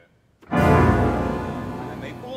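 An organ imitates a mighty gush of wind: after a short quiet moment a loud, thick roaring chord swells in suddenly, then holds and slowly fades with no talking over it.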